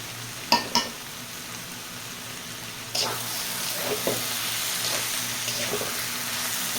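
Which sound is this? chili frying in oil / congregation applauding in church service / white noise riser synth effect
chili frying in oil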